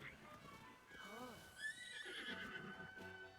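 A horse in Zelda: Tears of the Kingdom gives a clear whinnying neigh, with hoof clip-clop and other game sounds around it, fairly quiet overall.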